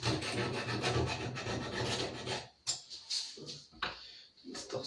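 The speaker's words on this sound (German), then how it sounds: "was ich jetzt noch mache, ist eben einmal ringsrum die Kanten abrunden" Hand-rounding of wooden edges all around a piece, likely with a rasp or file: a dense, steady rasping scrape for about two and a half seconds, then a few short separate strokes, close and fairly loud.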